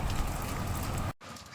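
Rain falls steadily on a street at night, a dense, even hiss that cuts off abruptly near the end and then resumes more softly.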